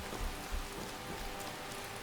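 Rain in Skyrim near Windhelm, a faint, steady hiss of falling drops with a few soft patters.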